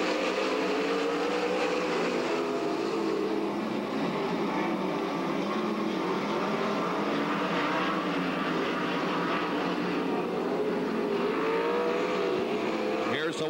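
Sprint cars racing at Grays Harbor Raceway, a continuous roaring engine drone with shifting pitch as cars circle the dirt track, loud and sustained throughout, with an announcer's voice faintly mixed in.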